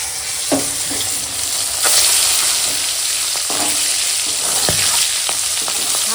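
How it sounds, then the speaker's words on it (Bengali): Tengra fish sizzle steadily in hot oil as they fry to a reddish brown, with a constant crackling hiss broken by occasional scraping knocks of a spatula in the pan. "মাছগুলো এরকম লাল লাল করে ভেজে নিয়েছি এখন তুলে নেবো"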